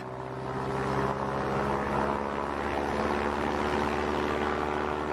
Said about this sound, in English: Facing into a 25-mile-per-hour wind, the V-173 literally takes off vertically